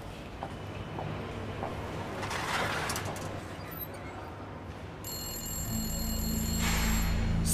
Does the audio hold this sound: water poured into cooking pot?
no